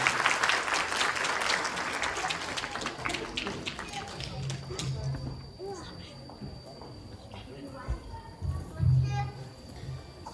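An audience at a Quran course graduation ceremony in Kocaağalar, Turkey, claps loudly at first as a speaker is invited to the podium, then the applause thins out and fades under background chatter and shuffling.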